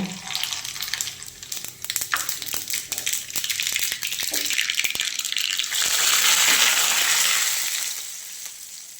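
Mustard seeds crackle and pop in hot oil for tempering, a dense run of sharp snaps over a loud sizzle that swells into a steady hiss near the end, with no talking.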